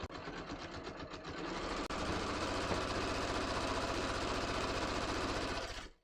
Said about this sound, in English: I'm just going to start stitching along my line, but not on my line